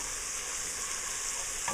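Garlic and onions sauté in olive oil in a soup pot for lentil soup, giving a steady, even sizzle of frying that runs close and unbroken throughout with no talking.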